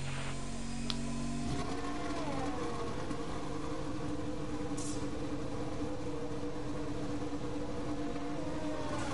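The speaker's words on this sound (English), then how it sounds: "All personnel be aware, car leaving." A TCR race car in a sim racing video game accelerates away, its engine note shifting from a low idle into a steady, rising drone that runs on continuously at moderate level.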